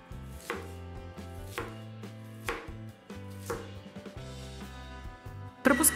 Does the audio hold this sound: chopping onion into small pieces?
yes